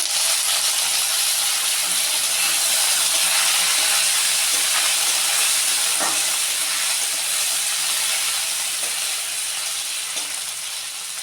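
Chopped raw green mango frying in hot oil in a kadai, a loud dense hiss of sizzling that stays even throughout with a couple of faint knocks, close up and without speech.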